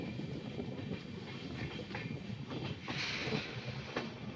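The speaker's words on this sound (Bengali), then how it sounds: "অবশেষে আমাদের মালদার ট্রেন মালদাতে ফিরে আসলো।" Gour Express train rolling into Malda Town station, with a steady rumble and a faint clatter of wheels heard from inside a carriage, continuous and moderately quiet.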